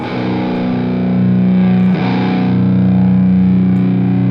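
An electric guitar played through a heavily distorted Mesa Boogie amp model in Amplitube 4, sustained thick chords ringing loud and close with a brief break in the middle.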